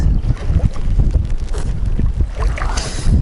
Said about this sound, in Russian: Задул такой ветер ураганный. Прям сильный ветер сегодня.